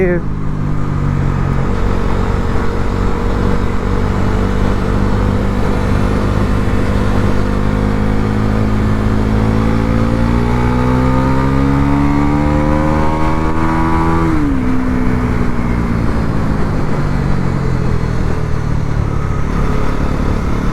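A budget motorcycle engine revs on the road as a loud, continuous drone that climbs steadily in pitch, then drops abruptly near the end, like a gear change, before building again.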